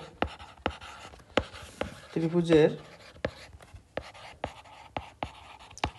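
A pen scratches out notes on paper in a math lesson, short strokes tapping at an uneven rhythm, close and fairly quiet, with a teacher speaking between them.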